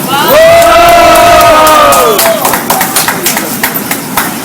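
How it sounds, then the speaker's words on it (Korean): A loud crowd at an outdoor candlelight rally cheers, opening with a long rising shout that gives way to roaring voices and scattered clapping, close and dense throughout. "큰 함성으로 맞이해 주시기 바랍니다."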